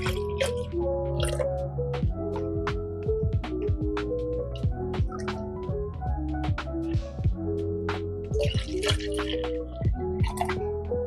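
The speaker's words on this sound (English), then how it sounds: "So after I add the milk in there" Lactose-free milk is poured into a blender or cup for a shake. It makes close, gurgling, dripping liquid sounds with plinking, changing tones throughout, and no one talks.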